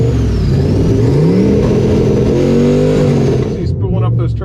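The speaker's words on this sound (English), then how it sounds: "He's spooling up those turbos." A twin-turbo pickup truck at a drag strip revs hard as its turbos spool up, loud rising engine tones climbing and wavering over several seconds before dropping off, with a voice commenting over it.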